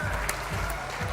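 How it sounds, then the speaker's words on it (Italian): Spectators in the Arena Biancorossa applaud their home women's team at a Serie B1 volleyball match between Volano and Offanengo, a steady, moderately distant wash of clapping running under a commentator's voice. "comunque applaude lo stesso il pubblico dell'Arena Biancorossa per le proprie ragazze"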